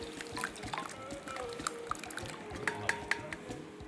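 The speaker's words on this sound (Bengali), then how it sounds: "তেঁতুলটা ছাকনি দিয়ে ছেঁকে নেবো" Soaked tamarind pressed and strained through a sieve for chutney, giving soft wet squelches and trickling drips in a quiet kitchen, close and low in level with small irregular splashes throughout.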